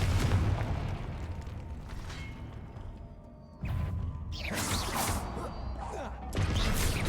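Confringo, the explosion spell in the video game Hogwarts Legacy, bursts in repeated booming blasts with crackling debris, mixed with game effects and a low rumble.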